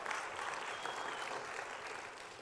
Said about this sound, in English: I don't know who you're clapping there